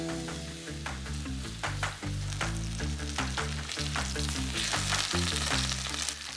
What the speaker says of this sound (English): Add a little bit of vegetable oil, and then my steak away from me.